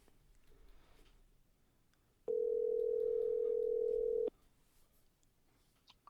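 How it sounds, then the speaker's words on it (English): A steady, pure telephone dial tone sounds for about two seconds against a quiet background hiss, then cuts off abruptly. "I hear a dial tone"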